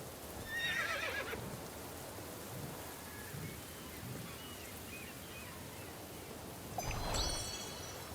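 Injured mare whinnying in Star Stable Online during a storm, two distinct neighs near the start and end over a steady wash of rain and low rumble.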